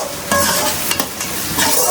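Onion and tomato sautéing in a pan, a loud close sizzle with repeated scraping stirs of a spoon across the pan over two seconds, no speech.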